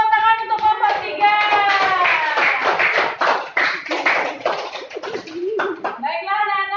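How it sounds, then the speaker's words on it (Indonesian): Schoolchildren in a classroom clap together for a group of classmates, a steady run of close, rhythmic hand claps mixed with high young voices calling out. "Kita beri tepuk tangan untuk kelompok 3."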